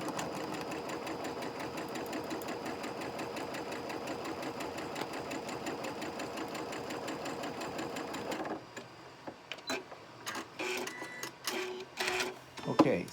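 Home sewing machine stitching quilt blocks at a quarter-inch seam with a quarter-inch foot, running steadily and close for about eight seconds, then stopping into short stop-start bursts and handling noises.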